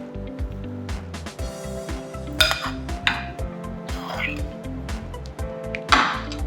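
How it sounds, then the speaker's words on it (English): Whisk scraping and clinking in a bowl as a leek tart filling with spices is blended, a run of quick metallic taps and rattles at close range. Steady background noise sits underneath. "whisk your mixture to blend the spices into it"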